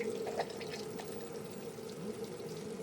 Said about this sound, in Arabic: حطيت ماء الساخن